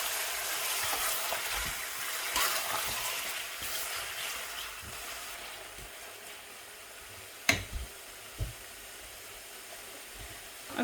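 Meat frying in a pan for achar gosht, a steady broad sizzling hiss that holds for seconds and then eases, with a few sharp clinks and taps near the end.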